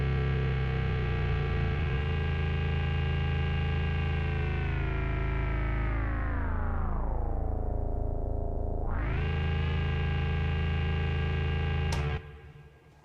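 A Clouds granular synth module runs with reverb switched off, producing a dense, buzzing, distorted drone whose pitch sinks slowly and then jumps back up before cutting off abruptly near the end, loud and without talk.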